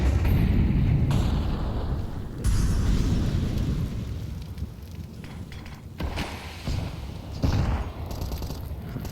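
A molotov fire burns in Counter-Strike 2 on the Anubis map during a professional IEM Katowice 2024 match, giving a dense, steady roaring crackle that continues throughout, with a few louder bursts and brief dips.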